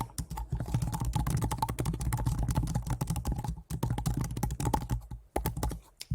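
Someone types on a computer keyboard while building a website, a quick close run of key clicks with a brief pause in the middle and another at the end.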